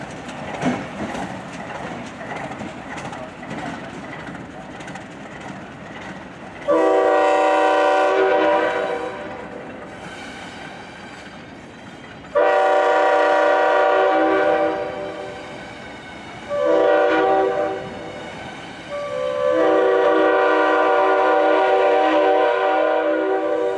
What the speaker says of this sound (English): The diesel's Alco 244 prime mover might be a bit smoky and clattery these days